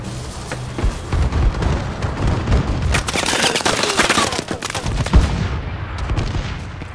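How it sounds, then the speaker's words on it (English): A Call of Duty Advanced Warfare enemy bombing run on the Solar map sets off a rapid chain of heavy explosions and gunfire, loud booms stacking and rolling over one another for several seconds. "Enemy bombing run overhead."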